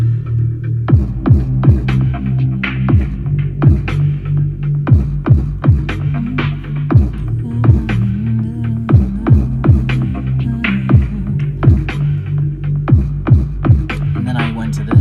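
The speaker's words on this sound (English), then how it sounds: "I added a lot of effects to them to kind of make them sound kind of like this, echoey, haunting, a little bit distorted." Drums processed with heavy echo and distortion give a haunting, repeated pulse over a steady droning low hum, with sharp decaying hits falling in a loose rhythm throughout.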